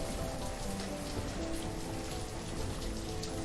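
Steady rain in the village-building game Banished, a dense even hiss of drops on surfaces, moderately quiet and continuous.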